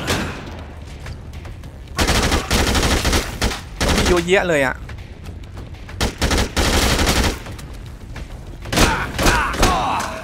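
Gunfire in Dead Rising 2 rattles out in dense bursts amid zombie-fighting chaos, with explosions and thuds mixed in, and an excited voice cutting in briefly between volleys.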